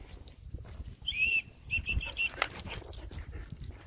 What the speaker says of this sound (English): There's another whistle there.